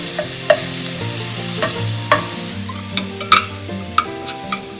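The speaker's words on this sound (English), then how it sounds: "Let it saute for a few seconds" Ginger paste and turmeric sautéing in a pan give a soft steady sizzle, broken by several sharp clinks and scrapes of a stirring utensil, with tonal music playing underneath.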